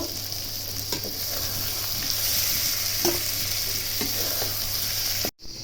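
Eggplant and green chilies stuffed with spices sizzle loudly and evenly in a pan, with a few faint spatula scrapes before the sound cuts out abruptly near the end.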